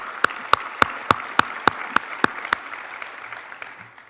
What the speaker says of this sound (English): I think they all deserve a big round of applause as our thank you.